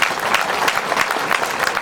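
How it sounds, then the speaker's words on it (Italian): Audience applause fills a live comedy show in Sant'Antioco, Sardinia: a dense, steady wash of clapping from a crowd, sustained evenly and fairly loud throughout without voices on top. "Facciamo un applauso a Pinello"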